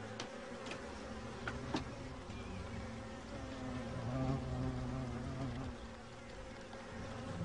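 Steady insect buzzing from many bees, a dense droning hum that swells slightly midway, with occasional closer wingbeats passing by.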